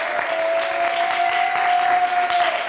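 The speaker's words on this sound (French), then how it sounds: "on peut arriver à faire applaudir des Lyonnais encore en ce moment" Steady audience applause fills a football talk show studio, a dense, even wash of clapping throughout, with a faint sustained tone running beneath it.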